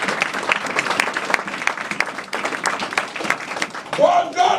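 A church congregation applauding and praising God, steady clapping mixed with cheering voices, fairly close and continuous, with a voice rising over the crowd near the end.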